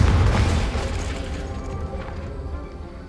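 A booming blast from the Confringo spell in the Hogwarts Legacy game, a loud low-heavy burst at the start that rumbles and fades over the next few seconds.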